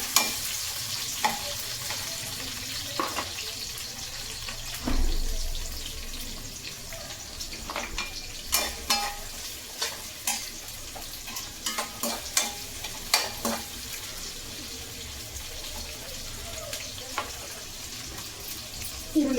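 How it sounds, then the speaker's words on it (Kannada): Onion and garlic frying in oil make a soft continuous sizzle, broken by repeated sharp clacks and scrapes of a spatula stirring against the pan, along with a brief low thump and faint background talk. "ಇದೇ ಆಯಿಲ್ಗೆ ಈರುಳ್ಳಿ ಬೆಳ್ಳುಳ್ಳಿ ಉಳ್ಕೊಂಡಲ್ಲ ಅದೇ ಆಯಿಲ್ಗೆ ಹಾಕ್ಬಿಟ್ಟು ಫ್ರೈ ಮಾಡ್ತಾಯಿದ್ದೀನಿ."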